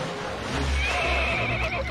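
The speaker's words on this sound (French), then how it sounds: "Ni ce satané cheval." A horse gives a loud, drawn-out neigh up close, with a rumbling low background beneath it.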